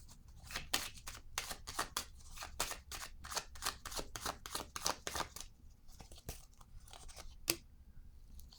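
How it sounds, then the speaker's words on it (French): A tarot-style card is laid down on a table amid a dense series of crisp, close card shuffles and flicks that thin out into a few isolated taps. "Je vais déposer une carte ici."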